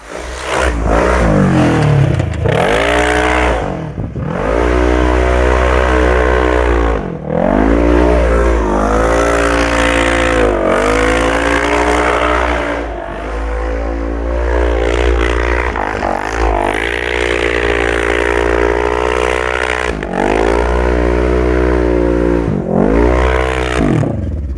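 Polaris RZR UTV with a new clutch and driveshafts on a test drive, its engine loud and close, revving up and down continuously with repeated surges and brief dips as it accelerates.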